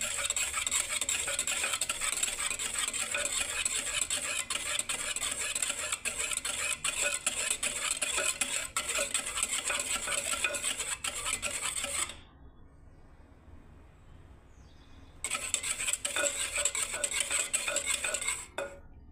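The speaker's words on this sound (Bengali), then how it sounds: "দেখুন বন্ধুরা আমি এখনও ঘাটছি বন্ধুরা, দেখুন দইটাকে।" Yogurt being stirred for a homemade mango shake, with a continuous scraping, rubbing sound of a spoon against a bowl, close and steady, pausing briefly near the end before resuming.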